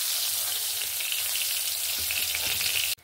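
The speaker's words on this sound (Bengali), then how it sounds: "পটলটাও সুন্দরভাবে ভেজে নিয়েছি।" Pointed gourd (potol) frying in hot oil, a loud, dense hiss of sizzling that holds steady up close, then drops off abruptly at the very end.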